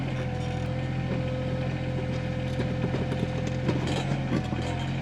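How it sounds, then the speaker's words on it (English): A 12-inch excavator bucket digs a post hole in rocky soil, grinding and crunching rocks under a constant loud diesel engine drone, with irregular crumbling clicks. "Can y'all hear that crumbling in there as it's breaking those rocks out?"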